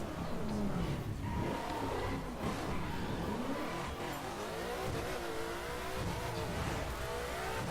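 A car in the racing game The Crew drives around Chicago with a steady, revving engine whose pitch rises and falls through gear changes, loud and continuous throughout.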